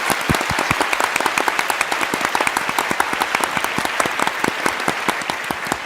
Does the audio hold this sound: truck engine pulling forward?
no